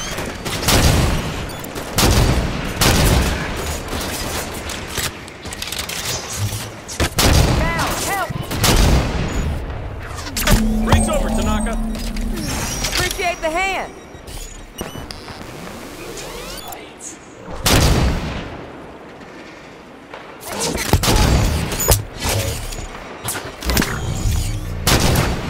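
Rapid energy-weapon fire from Promethean Crawlers in Halo 5 on Legendary, a dense barrage of sharp repeated shots and booming blasts through most of the stretch, with a brief lull in the middle.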